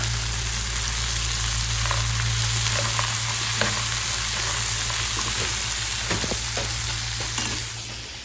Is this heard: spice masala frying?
yes